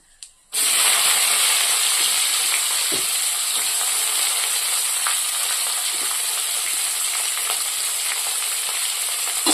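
Onions dropped into hot oil for rava khichdi burst into a sudden loud sizzle that holds steady and close, with occasional faint stirring scrapes.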